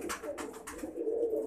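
Pigeons cooing softly and repeatedly up close, low throaty murmurs overlapping with faint background noise.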